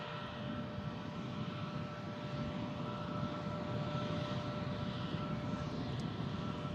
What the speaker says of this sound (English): using a narrow body aircraft this time, the Air Transat A321neo,